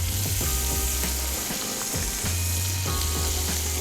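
Andouille sausage sizzles loudly in a pan with softened vegetables, a dense, continuous frying hiss up close with occasional stirring scrapes.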